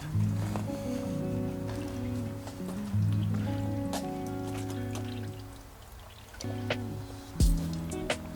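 Engine coolant from the block drain plug of a 1991 Mitsubishi Montero splashes and drips into a pan that is too small, a faint, steady liquid trickle with scattered drips and a louder splash near the end, no talk.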